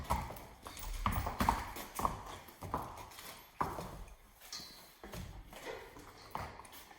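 A big black mare walks on a hard surface, her hooves landing in a slow, steady clip-clop of about ten distinct knocks, fairly close but quiet, with faint rustling between steps.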